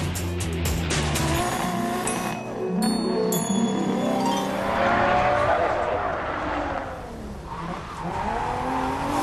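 A car drifting at a UK drift event with the handbrake, tires squealing and skidding over a roaring engine, the screech swelling and fading as it slides past at moderate distance.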